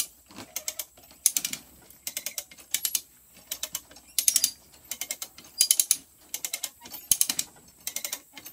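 A come-along winch ratchets in repeated bursts of sharp metallic clicks while hauling a load downhill, each burst a quick run of pawl clicks separated by short pauses, close and fairly loud with no talking.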